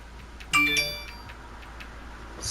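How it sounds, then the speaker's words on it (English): A short chime-like notification tone plays once during a GTA Online taxi-driver session, a bright ringing ding that fades over about half a second against low background noise. "Sorry about that notification"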